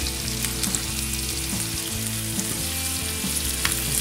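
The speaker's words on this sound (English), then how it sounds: "I'm gonna cook these down enough so they're not raw." Morel mushrooms fry in a pan with a steady, close sizzle and crackle, continuous throughout with faint scattered pops and no talking over it.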